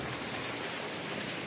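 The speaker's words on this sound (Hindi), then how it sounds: "ये यहाँ पर देखिए कितनी बारिश हो रही है।" Heavy rain pours steadily during a cold, cloudy spell at a home where cooking is underway, a dense, even hiss with no talk over it.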